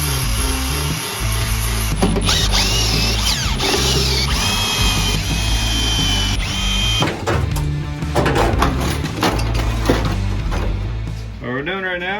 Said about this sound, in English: there's spot welds, so you're gonna have to drill those out to get this rest of this floor pan out